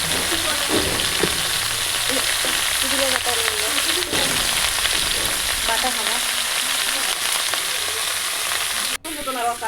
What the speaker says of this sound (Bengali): গ্যাস জ্বালিয়ে দিলাম সবজি দিয়ে দিলাম